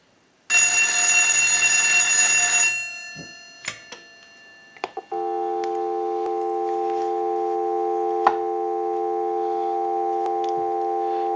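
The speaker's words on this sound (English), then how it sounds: "we'll give you some dial tone." Steady telephone dial tone from a line analyzer during a brass rotary telephone repair, following a loud ringing burst and a few clicks, then holding as a continuous two-tone hum alone.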